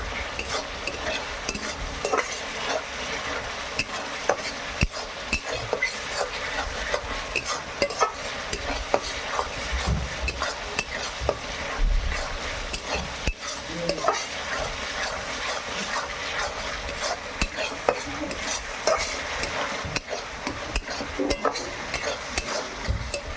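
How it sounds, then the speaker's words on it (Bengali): Ground spice masala frying in a pan and being stirred constantly. A continuous sizzle is broken by frequent scraping and tapping of the spoon, close up and moderately loud, with no talk. "মশলাটাকে এইভাবে ভালো করে কষিয়ে নিতে হবে"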